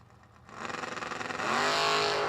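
A 1969 Dodge Dart and a 1968 Dodge RT launch at a drag race, engines roaring loudly and rising in pitch after a quieter opening, pulsing with rapid revs before a sustained full-throttle blast.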